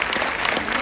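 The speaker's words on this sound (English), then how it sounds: "let's give a big round of applause." Dense, loud applause from a yoga conference audience, a steady wash of many hands clapping together in a brief burst.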